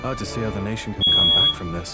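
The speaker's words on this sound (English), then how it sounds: "Sorry about the loud beeping." A sharp electronic smoke alarm beep sounds once, loud and piercing, cutting across a person speaking.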